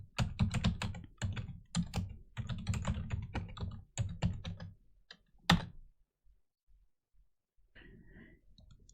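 Someone types a systemctl restart command on a computer keyboard to restart a Linux DHCP server, giving close, crisp bursts of rapid keystrokes for about five seconds before the tapping stops and near quiet follows.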